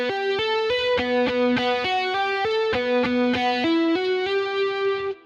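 Distorted electric guitar plays steady triplet runs, three picked notes alternating with three hammered-on notes from the fretting hand, bright and even in rhythm under chorus-like effects, with no talking.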